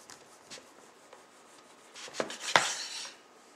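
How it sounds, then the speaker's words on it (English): A knife slices through thick smoked bacon on a board with soft, close rasping strokes, ending in a sharper cut and tap, with no one talking. "Slice that smoked bacon like that."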